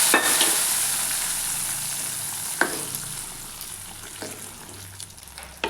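Kerala-style mango pulissery being stirred in a pan, a soft continuous sizzle with a few scattered scrapes and clinks of the spoon against the pan, fading slightly toward the end, no voices.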